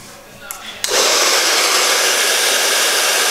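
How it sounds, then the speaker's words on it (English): Hair dryer blowing at the back of a boy's hair during a haircut, switching on with a sudden loud steady whoosh after a few faint handling sounds, close and continuous. "But I want to dry the back."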